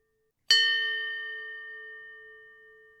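A single bell stroke rings out clearly, its bright metallic strike followed by a long, steady hum that slowly fades over the next few seconds in otherwise silent surroundings.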